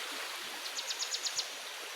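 A rain-fed stream flows steadily as a continuous, faint broadband wash of water, with a short series of soft, rhythmic ticks partway through.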